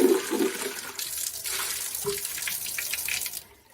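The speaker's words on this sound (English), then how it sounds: "let's run some soapy water." Tap water runs into a bucket to make soapy water for cleaning out the bucket, a steady splashing rush with a short burst at the start, ending in a brief tail-off.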